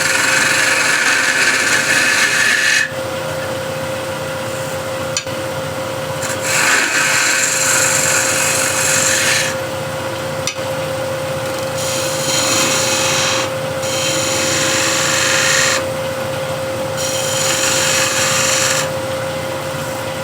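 Wood spinning on a lathe as a small spindle gouge cuts it while making a hexagon plate, a steady motor whine with a constant tone under bursts of shaving and rubbing noise that come and go in several passes, close and fairly loud.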